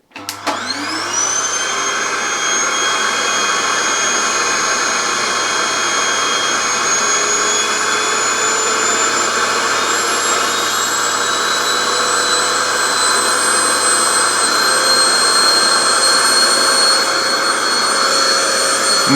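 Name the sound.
800 watt vacuum cleaner running on portable power station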